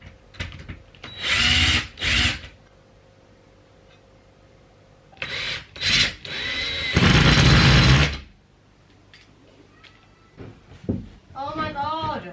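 Power drill whirring in several short bursts while a cabinet carcass is built during a home renovation, with a longer run near the middle, voices talking in between.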